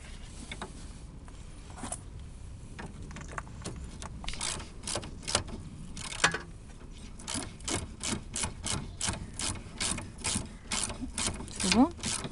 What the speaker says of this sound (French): Et dès que je suis dessus avec la clé de 14,